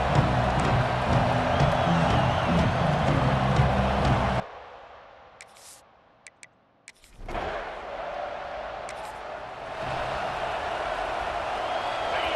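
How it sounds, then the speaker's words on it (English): Stadium crowd cheering at a ranked-versus-unranked matchup in the EA Sports College Football 26 video game, a dense loud roar that cuts out abruptly midway, then returns slightly softer. "This crowd ready to make its presence known."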